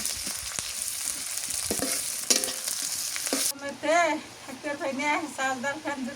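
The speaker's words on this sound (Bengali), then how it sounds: "দিলাম একটু গরম ফোড়নে" Spices hit hot oil for a beef curry cooked with Malabar spinach, and a loud, close sizzle fills the first few seconds. A voice then talks over a softer frying hiss.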